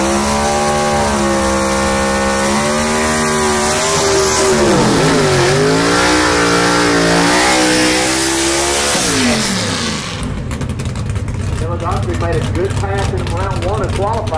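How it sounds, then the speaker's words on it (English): A B/Gas gasser drag racing car blasts down the strip at Shadyside, its loud engine climbing through gear changes with sweeping pitch before cutting off into crowd and track ambience. "Rick Varner streaking down the racetrack to another round victory"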